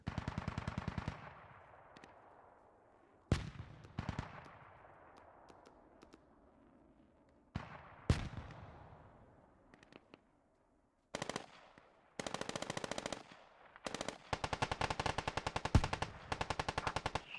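Video game gunfire, with long bursts of rapid machine-gun fire and single sharp shots separated by short quiet gaps, growing dense and continuous toward the end.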